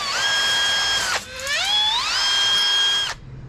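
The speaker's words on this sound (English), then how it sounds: "gotta poke some holes where the bolts go through." A power drill bores bolt holes through a metal A/C mounting plate for a traditional hot rod, a steady high whine that dips as the bit bites, then climbs back up before stopping abruptly, close and loud with no talking.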